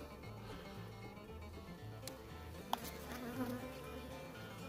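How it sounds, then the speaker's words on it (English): Honey bees in an open Langstroth hive with capped honey, buzzing in a steady, dense drone close by that holds through the whole stretch, with no voices. "It's a very healthy amount of bees in here, that's for sure."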